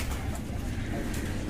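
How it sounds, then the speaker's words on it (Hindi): A pigeon coos softly amid steady low outdoor rumble and background noise, a brief murmuring call, in hilly country. "हां दूसरा काजल कबूतर है।"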